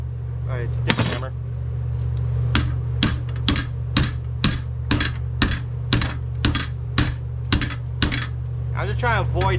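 A hammer strikes a steel chopper sissy bar to flare its end, about a dozen sharp metallic clanks in a steady rhythm, close and loud, with brief talk at the start and end.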